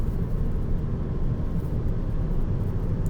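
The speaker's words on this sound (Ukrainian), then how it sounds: "Машина впевнено себе відчуває на трасі" A 2012 Skoda Superb 2.0 TDI with automatic gearbox and four-wheel drive cruising on a highway, heard from inside as a steady, loud low road and engine rumble with no break.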